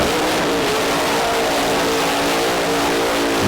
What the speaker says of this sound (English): Nice, straight, strong burnout for Wayne Nicholson.